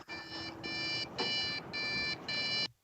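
An overclocked computer's crash alarm beeps in five long, steady pulses with short gaps, shrill and close, over a low background rumble.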